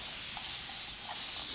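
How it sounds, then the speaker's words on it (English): Hair spray is misted onto a person's hair during a home haircut, a soft, close hiss that runs continuously for under two seconds with slight pulses in strength. "Spray my hair."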